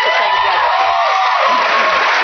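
Studio audience applause fills a TV comedy panel show, a dense, loud wash of clapping and crowd noise that holds steady throughout, with faint voices mixed in.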